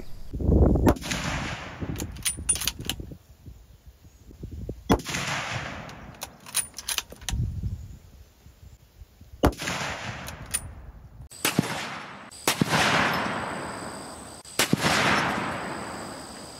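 .270 Winchester rifle rounds, Hornady Precision Hunter 145-grain ELD-X, fired into ballistics gel: several loud, sharp reports spaced seconds apart outdoors, each trailing a rolling echo, the later shots coming in quicker succession.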